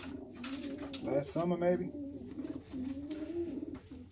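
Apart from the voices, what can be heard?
birds cooing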